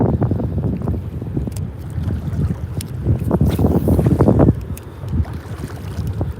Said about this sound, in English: 30-mile-per-hour gusts